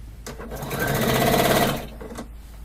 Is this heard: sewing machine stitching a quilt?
yes